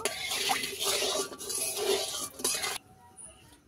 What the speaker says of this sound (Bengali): দিয়ে দেবো একটু হলুদ গুঁড়ো। দিয়ে তেলের মধ্যে ভালো করে মিশিয়ে নেব।